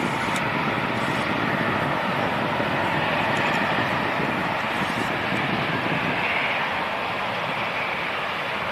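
A Luxair airliner bound for Luxembourg departs London City Airport, its engines giving a steady, broad roar at moderate distance with no break.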